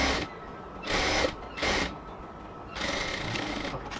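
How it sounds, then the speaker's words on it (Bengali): An electric sewing machine runs a double stitch along a full sleeve of a cotton dress, in several loud whirring bursts of about half a second to a second, with a longer run at the end. "এবার ফুল স্লিভের মধ্যে আমরা আরেকটা ডাবল সেলাই দিয়ে নিব।"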